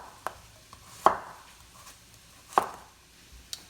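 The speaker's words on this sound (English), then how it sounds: "I'll cut them into a circle and maybe end up cutting it twice each direction" A knife chops yellow squash on a cutting board: a few sharp, separate thuds spaced about a second apart, close and clear over a quiet kitchen background.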